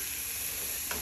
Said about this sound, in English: frying this up, gonna brown it